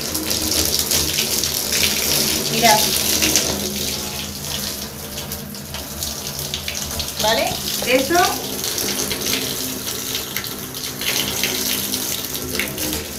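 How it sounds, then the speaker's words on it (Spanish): Tap water runs steadily into a sink while dyed hair is rinsed, a continuous close splashing rush with a person speaking briefly over it. "iréis viendo cómo cae el agua"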